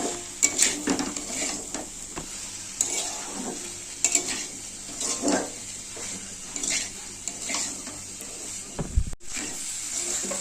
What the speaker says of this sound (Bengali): আর একটু চিনি স্বাদ মতো দিয়ে এটাকে ভালো করে নেড়ে নেবো, কষিয়ে নেবো